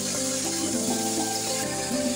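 Chopped ridge gourd hits a hot pan already seasoned with salt and turmeric, giving a steady, loud, continuous sizzle and frying hiss with small stirring knocks.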